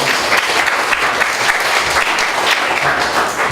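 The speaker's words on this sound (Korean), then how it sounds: "서로를 위해서 다 박수로 좀 주세요." An audience at a seminar on missionary kids' care bursts into loud, dense applause that carries on evenly and close throughout, with no speech over it.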